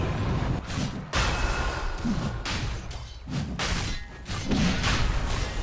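Dota 2 combat in a DAC 2017 professional match as Dire's middle tower comes under attack: dense, steady game audio packed with repeated dull thumps, impacts and crashing hits, with short dips between bursts.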